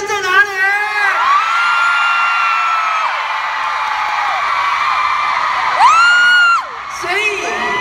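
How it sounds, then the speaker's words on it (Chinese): A large concert crowd at a performance with a celebrity guest screams and cheers in a loud, sustained wave of high-pitched shrieks that swells again near the end. "尖叫声在哪里？"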